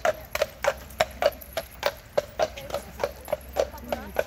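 Horse hooves clip-clop on a city street in Victoria, Canada, a steady run of about a dozen sharp, evenly spaced hoof strikes, fairly close and clear over faint background noise.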